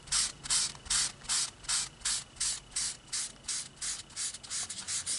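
A Mr Clean Magic Eraser scrubs back and forth across a comic book's pages, about a dozen even, rhythmic rasping strokes, close and steady with no voices.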